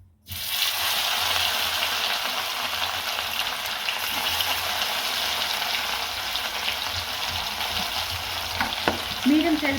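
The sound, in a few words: fish frying in hot oil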